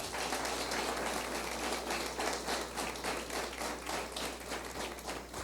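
Steady applause from a church congregation, dense clapping that holds evenly throughout without any voices rising above it.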